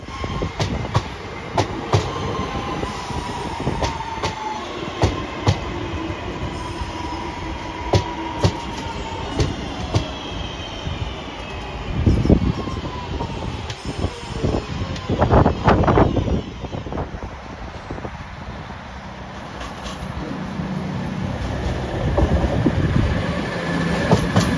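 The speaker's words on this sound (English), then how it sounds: "Here we have the next 323 running from Blake Street to Redditch." A passing Class 323 electric train in the West Midlands hums and rumbles with rhythmic wheel clatter, swelling louder midway as it runs close by, with occasional sharp clicks over rail joints.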